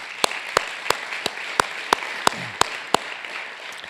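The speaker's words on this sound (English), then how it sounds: "Round of applause for Marion High School." At a 2024 community banquet, applause for a high school comes through as a soft bed of clapping punctuated by a loud, evenly spaced rhythmic clap roughly three times a second, close and prominent.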